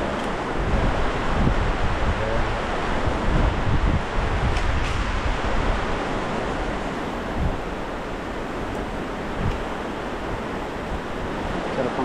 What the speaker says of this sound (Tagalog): Sarap ang hangin dito.